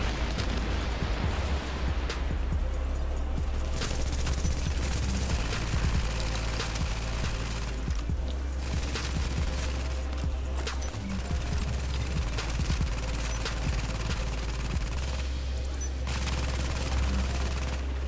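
Sustained game gunfire in a Dark Zone firefight in The Division, a dense stream of rapid shots and rattling bursts that holds at a steady loud level throughout, with a brief voice in the mix.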